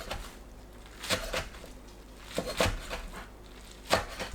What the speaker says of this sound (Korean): 간추려서 2cm 간격으로 썰어줍니다